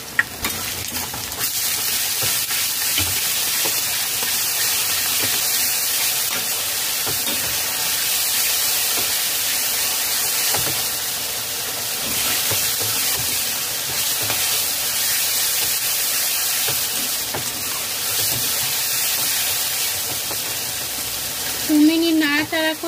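Onions with a tablespoon of ginger-garlic paste frying over medium flame while being stirred, a steady close sizzle and hiss with scraping stir noises running throughout, swelling slightly near the end.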